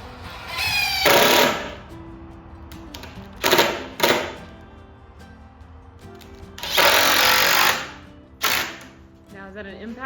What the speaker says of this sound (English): this is an impact driver, basically like a ratchet, and drives it in versus a drill